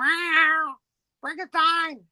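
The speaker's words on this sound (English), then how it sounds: "Very vocal cat." A very vocal cat meows loudly and close by, giving two long, drawn-out meows separated by a pause, with a short voiced sound between them.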